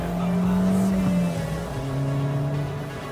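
A car engine is held at full throttle, roaring loud and close with a steady, sustained drone that climbs in pitch, dips briefly as it changes gear, then pulls on again. No one speaks.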